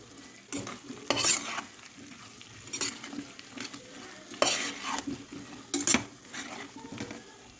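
Potatoes fry in masala over low gas as a spatula stirs them in the pan, with repeated scraping strokes and metal clinks over a soft continuous sizzle, heard up close.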